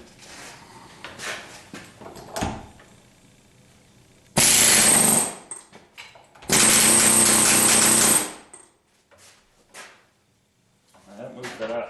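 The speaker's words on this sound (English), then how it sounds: "the air hammer on the flange" An air hammer pounds on a Corvette half shaft flange held in a vise, two loud sustained bursts of about two to four seconds each rising sharply out of quieter talk and shop sounds.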